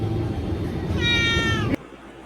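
A cat meows in a drawn-out, rising-then-falling call lasting under a second, cutting off abruptly amid loud background noise in a grocery store setting.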